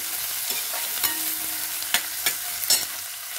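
Thinly sliced onions fry in hot oil for a dal, a steady close sizzle punctuated by several sharp scrapes and clicks of a spoon stirring against the pan.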